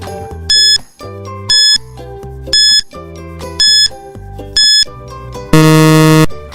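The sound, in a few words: quiz countdown timer sound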